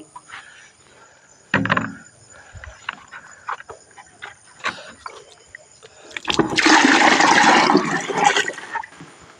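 Scattered clanks and knocks, then a sustained gush of sloshing water as a bucket is hauled and poured from a well.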